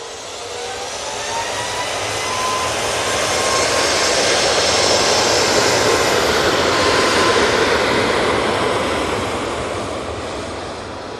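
A jet airliner takes off from Manchester Airport bound for Almeria, a broad rushing engine roar that builds gradually, peaks midway and then slowly fades as it climbs away into the distance.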